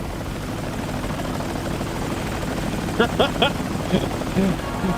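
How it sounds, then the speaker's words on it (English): A helicopter in Indiana Jones and the Infernal Machine flies with a steady whirring rotor drone throughout, while a voice speaks briefly over it near the end. "Sophia can fly a helicopter now."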